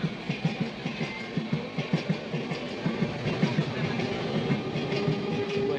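The Malda–Howrah Intercity Express rolls by near Liluah station with loud, continuous rumbling and rhythmic clickety-clack of wheels over rail joints throughout.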